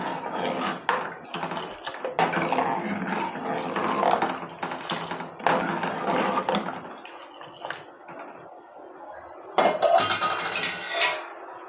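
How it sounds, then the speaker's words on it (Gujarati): A spoon clatters and scrapes against a pot while boiled china grass is stirred into boiling milk, giving irregular metallic knocks and scrapes, then a quieter stretch and a brief sharper clang near the end. "હવે આપણે ગ્રાસ અને દૂધને એક સરખી રીતના મિક્સ કરી લઈશું."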